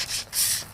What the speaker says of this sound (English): This crocus cloth or emery cloth is literal sandpaper on fabric so that you can do stuff like this to polish crank journals